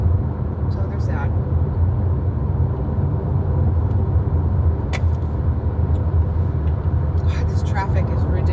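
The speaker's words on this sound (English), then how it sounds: "God, this traffic is ridiculous still." Road traffic rumbles continuously and loudly, a dense low drone of car engines and tires with a few brief higher squeaks and hisses, like braking vehicles, breaking through.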